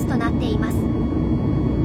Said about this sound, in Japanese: 今回乗っている 737-8200 という飛行機は現在までに型式証明を取得できている 737MAX3 機種のうちの一つとなっています。